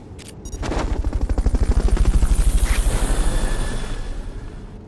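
A helicopter in the video game Metal Gear Solid Peace Walker gives a steady, rapid rotor chop that swells to a loud peak midway, then slowly eases off, with nothing else over it.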